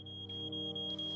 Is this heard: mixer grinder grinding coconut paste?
no